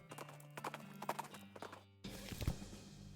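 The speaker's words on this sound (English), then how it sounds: "Clip, clop, clip, clop." Horse hooves clip-clop steadily in a video game, a regular rhythmic trotting under background game music and ambience, with a brief whinny-like sound near the end.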